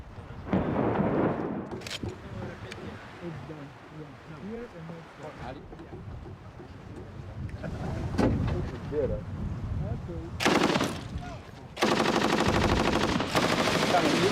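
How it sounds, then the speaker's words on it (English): Machine gun fired into a city below in archival film footage, heard as bursts of rapid gunfire and heavy booming under a loud rumbling background, with a dense sustained stretch of firing near the end. "Limonov became notorious when he was then filmed firing a machine gun in what seemed a random manner into the city below."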